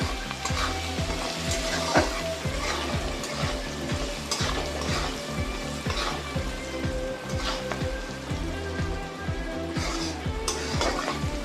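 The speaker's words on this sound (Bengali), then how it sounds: "পেঁয়াজগুলো আমার ভাজা ভাজা হয়ে গিয়েছে" Onions sizzling and frying in a pan with salt and turmeric, a steady crackle broken by regular scraping and stirring strokes that carry on throughout with no talking.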